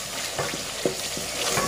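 Yogurt being mixed into kofta masala in a pan, a spoon scraping and stirring in short strokes over a steady background sizzle of the frying gravy, close and moderately loud.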